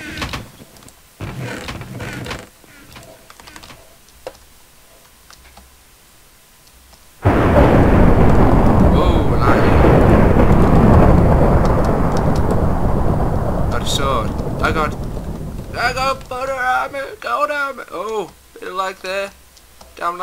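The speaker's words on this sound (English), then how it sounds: "Damn lightning." Thunder from a lightning strike in Minecraft survival games on the Hypixel server: a sudden loud, sustained rumbling crash that rolls on for several seconds, preceded and followed by game clicks and a person talking.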